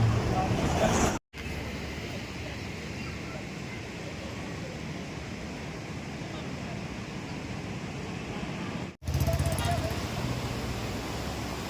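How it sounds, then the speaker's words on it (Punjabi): Loud, steady roar of floodwater rushing with great force through flooded villages in Punjab fills the clip, broadband and unbroken, with a couple of brief cuts; heavy wind buffeting adds to the din. "ਇਹ ਥੱਲੇ ਦੀ ਪਾਣੀ ਜਾਂਦਾ ਇਧਰ ਦੀ ਪੂਰਾ ਜੋਰਾ ਸ਼ੋਰਾਂ ਤੇ"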